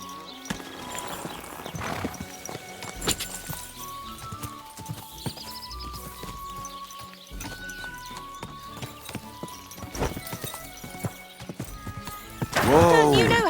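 Steady clip-clop of hooves trotting at an even pace, with a horse whinnying loudly near the end over a busy background of game sounds and music, in the video game Kingdom Come: Deliverance II.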